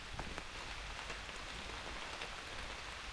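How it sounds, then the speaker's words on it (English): Rain falls steadily on a forest preserve trail, a soft, even patter of drops on leaves and ground with no voices, faint and continuous throughout. "it's starting to rain a little harder"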